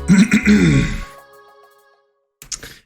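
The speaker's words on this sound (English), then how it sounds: "I clear my throat." A single throaty clearing sound, close and fairly loud, trailing off into quiet, followed by a short faint breathy noise.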